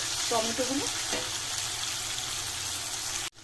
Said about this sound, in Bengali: এবার আমি তেলে টমেটোগুলো দিয়ে দেবো। পেঁয়াজের সাথে